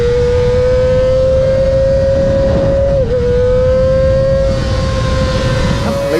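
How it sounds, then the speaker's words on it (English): A Kawasaki Ninja ZX-25R sport motorcycle engine screams steadily at high revs at close range, its pitch holding high with a brief dip midway, loud and continuous over rushing wind noise. "It just keeps revving, and the noise it makes is fantastic when you're pulling out the corners"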